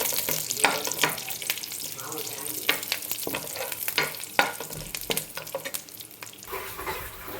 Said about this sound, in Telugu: కరివేపాకు వేసానండి నాలుగు చిన్న ఉల్లిపాయలు